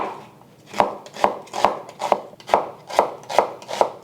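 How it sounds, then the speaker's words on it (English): Knife slicing an onion top to bottom on a cutting board, eight crisp, evenly spaced chops close up with a soft crunch on each cut and no voices. "I prefer to slice my onion from top to bottom"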